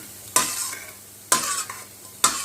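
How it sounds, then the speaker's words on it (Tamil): Coconut pieces frying in a pan until golden for a moong dal and sago payasam, with a steady sizzle and three sharp stirring scrapes at regular intervals. "கோல்டன் கலர் வர வரைக்கும் நல்லா வறுத்துக்கலாம்"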